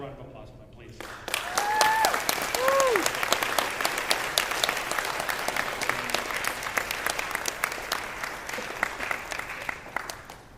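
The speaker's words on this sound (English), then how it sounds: "So another round of applause for them, please." A big convention crowd gives a round of applause for the event staff at a closing ceremony. Dense clapping starts after a second and holds steady for ten seconds, with a few brief whoops near the start.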